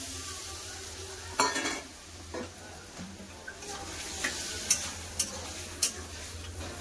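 Poppy seed paste frying with vegetables in a pan, a low sizzle under repeated scraping stirs and several sharp spatula taps against the metal.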